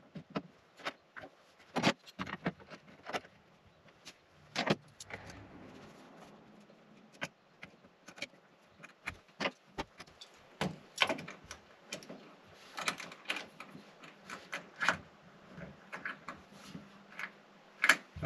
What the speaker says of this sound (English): Now I'm just going to put a clamp on each corner of this